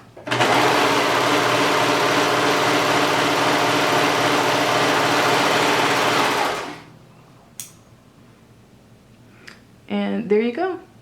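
A serger runs fast over a test scrap of fabric, a loud continuous mechanical whir for about six seconds before stopping abruptly, followed by quiet handling clicks and a short burst of talk near the end.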